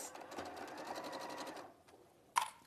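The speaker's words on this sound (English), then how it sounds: "So back to normal stitch length, and now on my seam allowance of 5/8." Sewing machine running a straight stitch along a cotton seam at a 5/8 seam allowance, a fast steady whir for about a second and a half, then a stop and a sharp click, with no talk.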